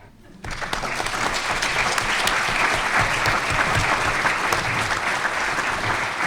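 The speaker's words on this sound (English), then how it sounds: "give another round of applause to our distinguished guests" Applause breaks out suddenly and swells into a full, sustained round from a large audience at a formal talk, holding steady to the end, with some crowd voices mixed in.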